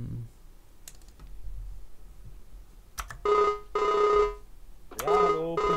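Phone ringing for an outgoing call to the police in Landwirtschafts-Simulator 19, several repeated electronic ring bursts after a few keyboard clicks, fairly close and clear, with brief speech between rings.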